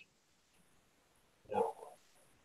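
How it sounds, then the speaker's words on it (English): A neighbor's beagle barks once, a short sharp bark with a quick follow-up yelp, heard outdoors at moderate distance against a quiet background. "The next door neighbor dog is barking at my dog."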